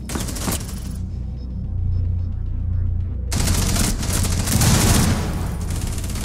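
Rapid bursts of automatic gunfire in the video game Rainbow Six Siege, loud and close, with a brief lull before another dense volley of shots.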